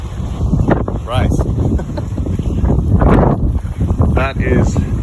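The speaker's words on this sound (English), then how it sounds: "it is a little bit windy, like I said." Strong outdoor wind buffets the microphone in a gym parking lot, a constant loud low rumble with gusts, while a person talks over it.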